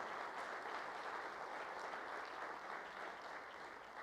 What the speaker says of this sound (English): Let's give Paul Frumpkin a big round of applause.